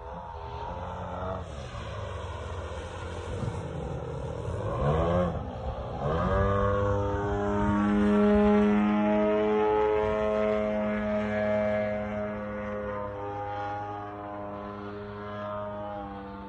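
A large RC Bushmaster model airplane with a 110-inch wingspan flies overhead, its engine droning steadily with a strong, rising and falling tone as it passes, loud and continuous with no talking.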